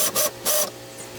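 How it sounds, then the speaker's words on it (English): A power drill boring pilot holes for screws while building a kids' book bin, heard as two short, close whirring bursts in quick succession followed by a faint trailing hum. "here I am going back around putting those pilot holes in"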